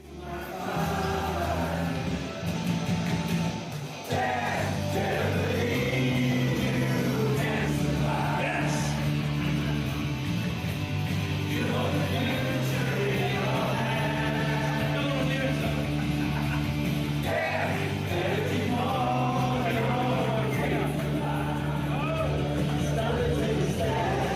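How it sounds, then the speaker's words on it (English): A loud crowd at a concert during a Transformers fan convention in the UK, cheering and yelling over amplified live music with a steady pulsing bass line, sustained throughout. "Just listen to this crowd."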